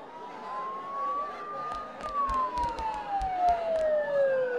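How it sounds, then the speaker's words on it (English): A wailing siren in the video game Persona 4 Golden sweeps up and then slowly falls, sounding fairly close over a faint background of ambient game noise and light clicks. "Don't those sirens sound really close?"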